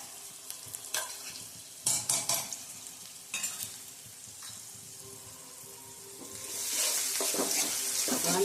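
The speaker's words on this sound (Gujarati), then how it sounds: "આને આપણે થોડી વાર સાતળી લેશું।" Garlic chili paste and grated ginger sizzle in hot oil while being sautéed for dal fry, with a spoon scraping and stirring the pan, and the frying hiss swelling louder near the end.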